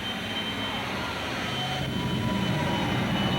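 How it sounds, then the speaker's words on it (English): The J60 jet engine of a jet dragster roars steadily with a dense, continuous broadband rush and low rumble, flames shooting from the tailpipe and top smokestack, loud and unbroken throughout with no talk. "Not only does it squirt fire out of the tailpipe, but also out of the smokestack on the top of that powerful J60 jet engine."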